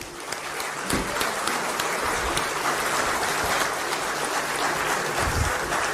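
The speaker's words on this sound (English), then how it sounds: "can we have a round of applause, thundering applause, please, from everybody?" A crowd claps steadily in sustained applause at a business summit, a dense wash of hand claps with a few louder individual claps standing out.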